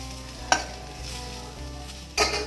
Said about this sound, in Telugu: ఒక టమాటోని వేసి కొంచెము పచ్చి వాసన పోయేటట్టుగా వేయించుకోండి.